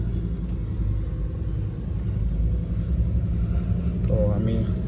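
A 2021 Lamborghini Huracan Evo RWD rolls along slowly, a deep steady engine rumble heard from inside the cabin, with a voice speaking over it near the end.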